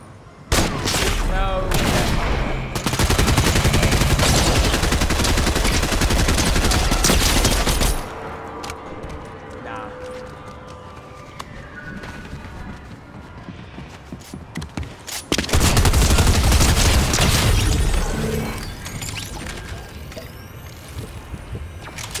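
Assault rifle fire in a video game, two long, loud sustained bursts separated by a quieter stretch with faint background game noise.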